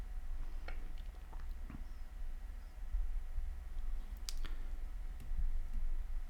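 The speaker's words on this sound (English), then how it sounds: "So click on create collection." Sparse, faint computer mouse clicks sound in a quiet room, a few isolated sharp taps spread across a few seconds.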